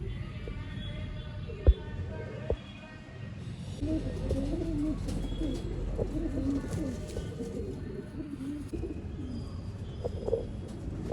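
Old line breeding pigeons coo softly and repeatedly in a loft, low throaty calls over a steady background, with a sharp click near the start and someone talking faintly.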